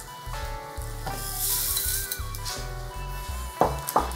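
Rice is tipped into a hot pan already holding lime juice and cilantro, and a loud bright sizzle crackles continuously for several seconds alongside low pulsing rumbles and a couple of sharp clinks near the end.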